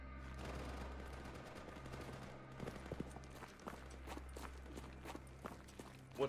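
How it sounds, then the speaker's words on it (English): Gunfire in the video game Stalker GAMMA: several sharp, distant cracks spread over a quiet, low-humming scene, with soft footsteps in between. "I heard the gunshot and immediately the grenade"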